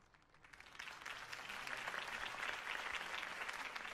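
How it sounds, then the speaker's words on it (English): Sustained applause from a crowd in a Batman video game, many hands clapping together, swelling slightly and holding steady. "could have heard that applause"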